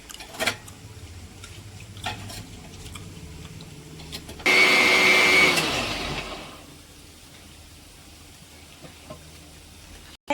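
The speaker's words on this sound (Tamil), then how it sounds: "இதை வந்து ஃபைனாக அரைச்சிட்டு வந்துடலாம்" A mixer grinder grinds masala to a fine paste for Friday lunch: a sudden loud whirring burst of about two seconds that fades out, with quieter kitchen clatter before and after.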